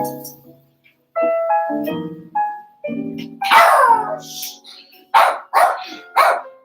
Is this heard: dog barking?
yes